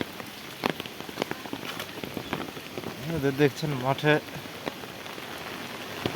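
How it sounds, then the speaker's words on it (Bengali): Heavy rain pouring on a rural field in Bangladesh, a constant dense patter with sharp drops striking close surfaces, while someone talks briefly over it in the middle. "এত পরিমাণে বৃষ্টি হচ্ছে আজকে।"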